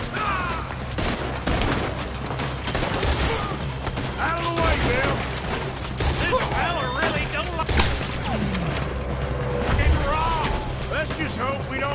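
Rapid gunfire in the Red Dead Redemption 2 video game, a dense stream of overlapping shots and cracks under shouted voices and game music, loud and continuous.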